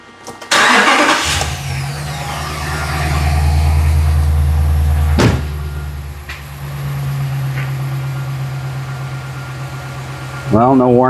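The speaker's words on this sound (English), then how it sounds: "we get to listen to my compressor run now" A 2017 Ram's engine starts and settles into a steady, close idle with its compressor running, a low droning hum with a brief sharp click midway and a restart-like surge near the end.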